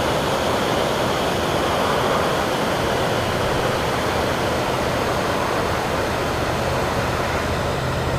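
A waterfall rushes in a constant, loud, broadband roar of falling water that holds steady throughout without a break.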